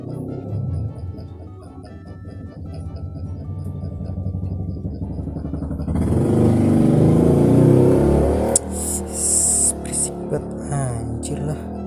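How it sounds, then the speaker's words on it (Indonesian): Motorbikes passing by outside, engine drone swelling louder midway and then fading, with a person talking over it the whole time. "motor gitu pas gua record banyak banget yang lewat gitu"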